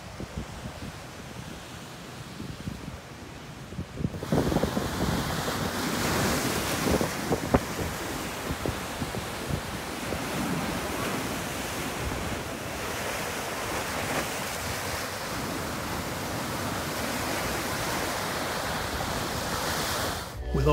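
Ocean waves and surf break against a rocky windward island shore in the Caribbean, a steady loud roar with wind buffeting the microphone and no voices.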